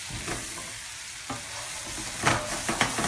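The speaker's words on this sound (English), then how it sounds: "So, stirring the pan." Cauliflower and potato for aloo gobi sizzle steadily in a frying pan while a utensil stirs and scrapes, with a few louder scrapes toward the end; no talking.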